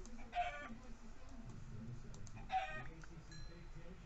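Faint clucking from four chickens in a video game comes in short bursts against a low, quiet background.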